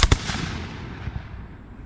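A Revolutionary War militia musket volley at a firing demonstration, a loud sharp crack followed by a rolling, fading boom and faint echo.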